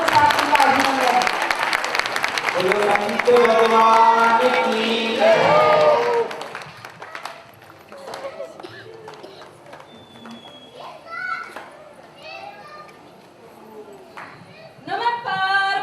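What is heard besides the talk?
audience applause at religious gathering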